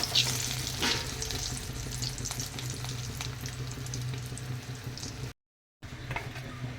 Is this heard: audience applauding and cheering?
no